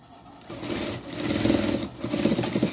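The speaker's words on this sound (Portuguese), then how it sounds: "Costurar as laterais aqui certinho, né?" A sewing machine stitching the side seams of a dress for a Shih Tzu: a close, loud mechanical whir that runs in bursts, pausing briefly and then speeding up again, with no talking.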